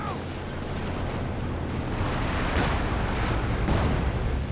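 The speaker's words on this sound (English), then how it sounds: "calling in the first MA3 cluster bombs" Cluster bomb strikes in the Company of Heroes 2 strategy game land as a dense, continuous barrage of deep booming blasts and rumbling bursts that stays loud throughout.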